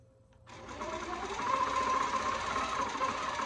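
A domestic sewing machine quilts t-shirt layers with a meandering stitch, starting abruptly and then running in a steady, fast mechanical whir with rapid needle clatter, close and continuous with no voices.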